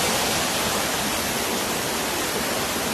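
Waterfall at Amtolipara in hilly country heard from above the falls, a steady, loud, broadband rush of falling water that fills the whole moment without pause.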